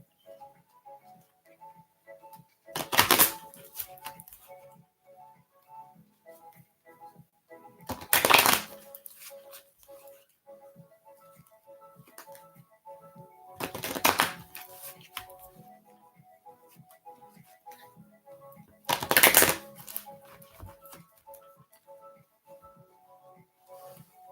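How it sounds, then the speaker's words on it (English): A deck of reading cards being shuffled, four sharp riffling bursts spaced about five seconds apart with quiet gaps between them. "One more deck I gotta shuffle."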